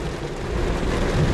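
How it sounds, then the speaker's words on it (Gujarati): Dense, steady roar of heavy rain with a low rumbling underneath, like rolling thunder, continuous throughout. "ત્યાં વરસાદ ફૂલ આવી ગયો છે"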